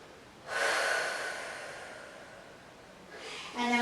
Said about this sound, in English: So we're breathing deep, feeling our tailbone reaching down towards our heels, filling up your lower back with air.